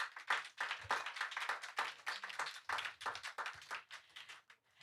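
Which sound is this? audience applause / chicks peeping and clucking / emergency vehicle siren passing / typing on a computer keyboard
audience applause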